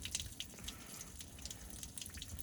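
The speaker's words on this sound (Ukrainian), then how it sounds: "по всьому вода тече" Water running and dripping over an MTZ 89 tractor being washed down, a steady close trickle and patter with scattered splashes and no voices.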